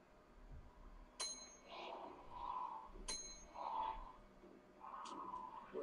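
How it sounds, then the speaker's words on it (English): A bell rings out in a scene from the TV drama Fear the Walking Dead, struck twice with sharp metallic clangs about two seconds apart, while voices talk quietly in between. "Ring the bell."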